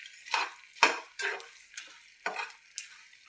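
A spoon stirs a dry mixture of dry fruits and crushed edible gum in a pan, making about seven crisp scraping strokes in an irregular rhythm, close and fairly loud, with no voices.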